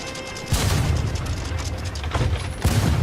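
Heavy booming ship cannon broadsides in a video game battle, with repeated low thuds and rumbling bursts in a steady barrage, loud and close.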